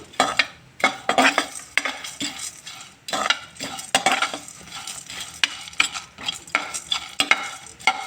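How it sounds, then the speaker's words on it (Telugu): Roasted gram dal being stirred in a hot kadai off the heat, with repeated rhythmic scrapes of a metal spoon against the pan over a light sizzle. "ఈ కడాయి వేడి ఉంటుంది కదా ఈ వేడికే కొంచెం లైట్గా వేగుతుంది"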